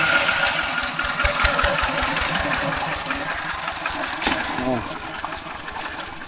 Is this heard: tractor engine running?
yes